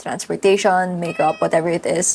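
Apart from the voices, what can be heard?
cat meowing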